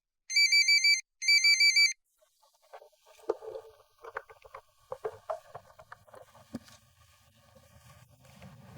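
A phone's electronic ringtone trills in two loud, close bursts, then stops, giving way to scattered clatter and low background noise.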